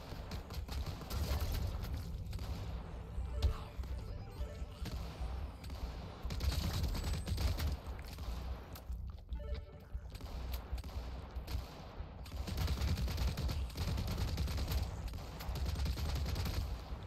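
An auto shotgun in the game Tower Unite fires in dense, rapid, continuous bursts, a steady barrage of booming blasts with short gaps and a brief lull, loud and sustained throughout.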